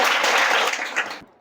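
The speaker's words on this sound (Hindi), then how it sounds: "इसके लिए ताली बजा दो।" Schoolchildren in a Bihar government school classroom clap together in a short, dense burst of applause, close and loud, stopping abruptly after about a second.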